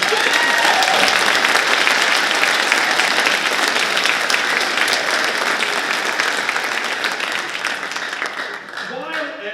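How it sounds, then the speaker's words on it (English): A room full of people clapping steadily at a school band concert, sustained and loud, slowly tapering near the end as a voice starts speaking. "How about a round of applause to recognize them?"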